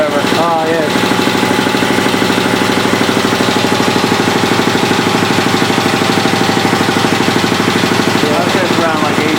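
A Champion air compressor running at maximum, a loud continuous mechanical drone with a steady pulsing rattle that holds level throughout, while people talk briefly over it.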